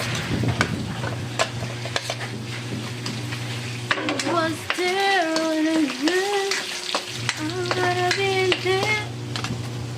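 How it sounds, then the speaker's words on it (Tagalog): Garlic sizzles and fries in a hot pan for a home-cooked tinola, a steady crackling hiss under occasional stirring clinks, with a person speaking over the cooking partway through. "Gisa natin ang bawang. Ipapa-brown muna natin ito"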